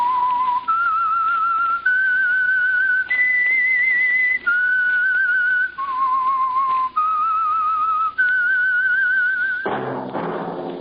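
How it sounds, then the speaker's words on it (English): A clear whistled tune of about eight sustained notes stepping up and down, the signature theme of the old-time radio drama The Whistler, followed by a brief thump at the end. "That whistle is your signal, the Whistler."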